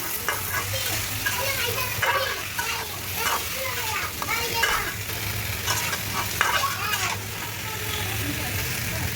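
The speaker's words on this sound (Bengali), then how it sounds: "এখন আমি আমার চাতাগুলো ছেড়ে দিব ছেড়ে দিয়ে কিছুক্ষণ নেড়ে ছেড়ে" Elephant apple (chalta) pieces frying in a pan for pickle, a constant sizzle with repeated stirring scrapes up close, while voices talk faintly in the background.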